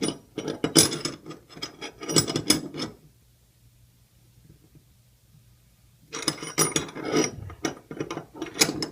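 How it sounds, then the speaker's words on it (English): A crank tool tightening a threaded bathtub drain during a drain replacement: close, rapid ratcheting clicks for about three seconds, a quiet pause, then another burst of clicking. "basically just use it to tighten it on in."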